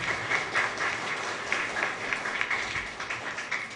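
An audience at a Tamil spiritual discourse claps steadily in a soft, dense patter of many hands, moderately distant and fairly even in loudness throughout.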